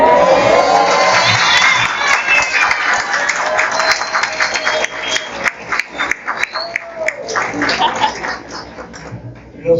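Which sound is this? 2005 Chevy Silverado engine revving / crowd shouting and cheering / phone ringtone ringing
crowd shouting and cheering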